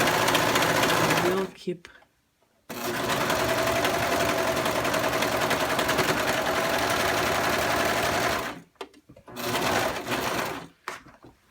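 A serger overlocks a V-neck seam, its fast motor whirring steadily in one long run of several seconds, then stopping and briefly starting again, with a short spoken phrase near the start.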